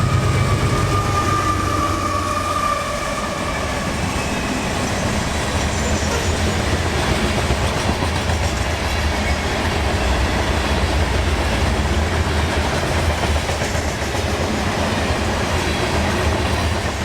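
A long manifest freight train with a four-locomotive lashup and about 10,000 feet of cars rolls past at night on the S-Line in Central Florida, a steady, close, loud rumble and clatter of wheels that runs unbroken from start to finish.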